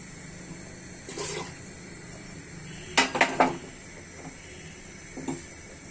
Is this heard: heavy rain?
no